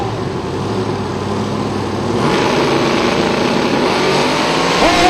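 Drag race cars launching side by side at a nationals event, one twin-turbo and one supercharged, a steady loud engine roar that swells and thickens about halfway through, with a faint voice underneath.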